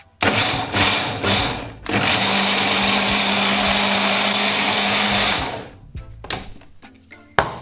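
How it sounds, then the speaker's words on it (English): Blender running steadily for several seconds, loud and close as it purees a sauce for one-pot chicken and rice until smooth, with brief pulses before and after and clattering handling sounds at the end. "you want to blend this until it's nice and smooth"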